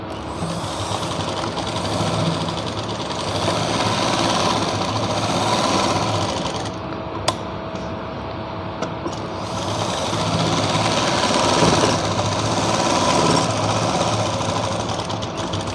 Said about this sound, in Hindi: दोनों आसन मिला लेने हैं और इस पर भी डबल सिलाई लगा देनी है।